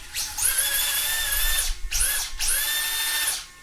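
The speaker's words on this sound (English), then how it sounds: "So let's just flip the throttle." A small electric motor in a Cougar Classic RC car runs through a new Orca brushed ESC. It winds up to a high whine in two long bursts, with a brief dip between them, then cuts off.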